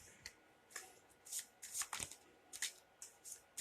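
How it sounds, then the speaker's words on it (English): Quick riffling bursts of playing cards being shuffled, several short crisp flurries in an irregular rhythm, close and fairly quiet. "And a shuffle and a cut."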